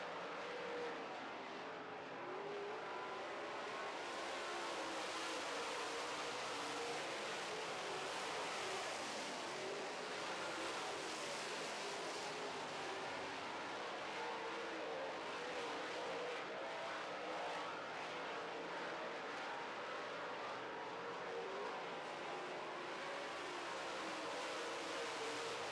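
Late model race cars racing on a 4/10-mile dirt oval in North Dakota, a constant distant roar of engines blending into a broad wash of noise, steady and faint throughout.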